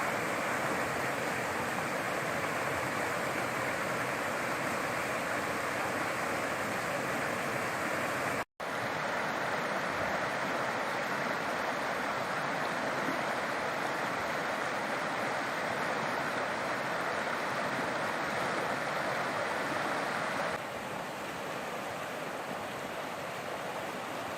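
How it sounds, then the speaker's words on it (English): A mountain creek in canyon country flows steadily, giving a continuous, full rushing wash of water close by. A brief dropout cuts in partway through, and no one speaks. "this is the creek"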